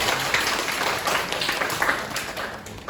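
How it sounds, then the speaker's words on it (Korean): An audience at a youth training lecture applauds to welcome a speaker, continuous crowd clapping at moderate loudness throughout, with no talk over it. "큰 박수로 부탁드립니다."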